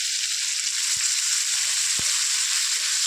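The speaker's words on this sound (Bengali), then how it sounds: "পটলগুলো ভালো করে কষিয়ে নেব" Pointed gourd sautés in a pan with chili powder and mustard paste, giving a steady, even sizzle throughout. Two brief clicks of a utensil against the pan break through it.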